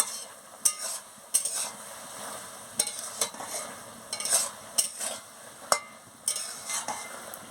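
Potato, drumstick and eggplant chochchori curry being stirred in a pan: a soft simmering hiss runs under repeated scraping spoon strokes and sharp clicks against the pan, close up and with no voices.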